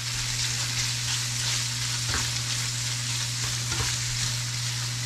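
Tofu frying in a pan, a continuous loud sizzle and crackle with a steady hum beneath and a couple of brief stirring scrapes, no voices.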